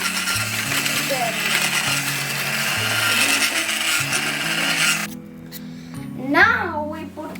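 Ingredients for gingerbread cookies whir and rattle in a blender-style grinder, a steady loud buzz for about five seconds before it cuts off, leaving a voice and faint kitchen noise.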